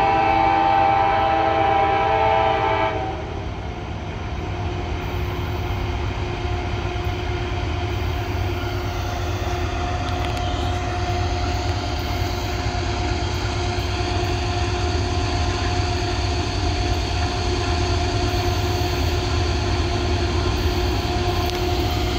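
A long CSX coal train on the B&O Old Mainline passes close by, a horn blast sounding at the start before giving way to a continuous loud rumble and clatter of freight cars rolling past.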